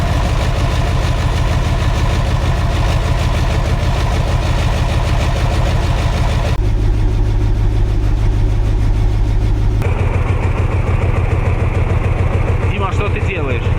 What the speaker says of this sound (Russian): Так, все, мы можем запускать мотор.